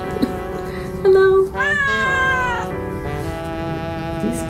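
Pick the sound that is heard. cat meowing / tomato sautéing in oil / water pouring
cat meowing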